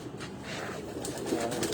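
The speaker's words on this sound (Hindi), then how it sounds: "किधर है वाला कबूतर?" A pigeon coos softly in a few low, throaty notes over faint background noise, heard fairly close without talk.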